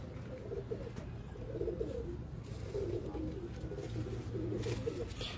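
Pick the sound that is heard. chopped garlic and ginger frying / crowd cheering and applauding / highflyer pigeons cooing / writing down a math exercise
highflyer pigeons cooing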